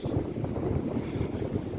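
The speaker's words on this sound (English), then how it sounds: "it's super windy on this side here" Strong northwest wind at the oceanside buffets the microphone, a continuous low roaring rumble with no breaks and no voices, loud and close throughout.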